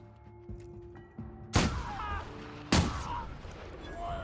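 Two sharp, loud gunshots from a video game gun, fired a second apart, each with a short ringing tail over a low in-game ambient hum with faint electronic tones.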